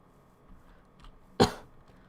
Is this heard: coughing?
yes